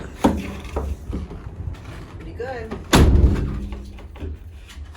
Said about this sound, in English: The back door opens.